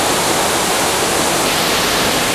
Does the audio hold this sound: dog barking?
no